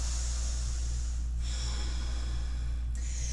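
Heavy, labored breathing during a difficult yoga posture, loud snorting inhales and exhales close to the microphone, with two brief pauses between breaths.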